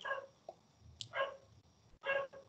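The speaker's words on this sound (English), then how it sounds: "would start barking when the postman arrived" A dog barks several times at the arrival of the postman, sharp close yaps and barks in short bursts separated by pauses, with no talking.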